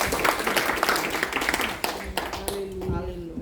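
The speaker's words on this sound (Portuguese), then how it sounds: "Vocês podem aplaudir o Senhor por" A church congregation claps for the Lord during a Portuguese-language sermon, dense clapping fading out as a tonal voice or sung note emerges near the end.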